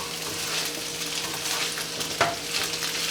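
Leftover meatloaf and rice hash fries in a pan with a steady close sizzle, while a spatula scrapes and stirs through it and one sharper scrape marks a flip.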